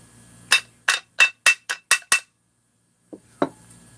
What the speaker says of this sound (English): Now I should be able to tap it back down.